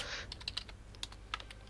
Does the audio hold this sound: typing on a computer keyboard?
yes